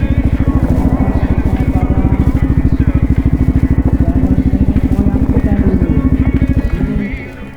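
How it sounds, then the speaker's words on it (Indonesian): A motorcycle engine running close by, a loud steady rapid thumping beat that holds constant before easing off near the end. "Motornya Pak Anton."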